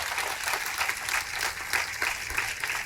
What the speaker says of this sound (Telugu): తనకి ఒకసారి చప్పట్లు కొట్టండి